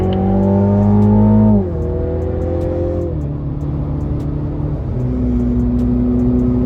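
A Mini JCW GP on a race circuit, its engine loud and close from inside the cabin, revving up and dropping sharply on gear changes, then pulling steadily at lower revs.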